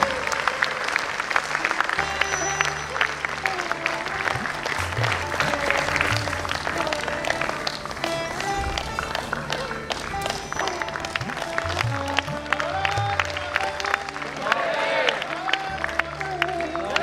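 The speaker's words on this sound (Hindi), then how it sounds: "तालियों की गड़गड़ाहट में कोई कमी नहीं होनी चाहिए।" Sustained audience applause at a pathology conference journal launch, a thick continuous crowd clapping with scattered cheers over a steady low musical drone.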